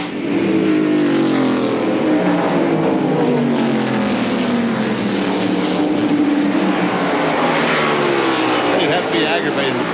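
NASCAR stock cars race at the 1993 Hanes 500, a loud continuous roar of engines with rising and falling pitch as cars pass, while a commentator talks over it.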